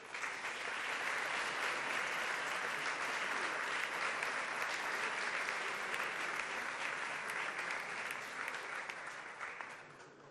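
Sustained applause from an audience at a centenary ceremony of a water authority, dense and even for about ten seconds before easing slightly at the end.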